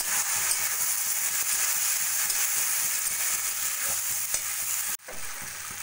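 Lentils are stirred and fried in a pot, making a constant, near sizzle with a soft scraping rhythm. Near the end it breaks off abruptly for a moment and then carries on more quietly.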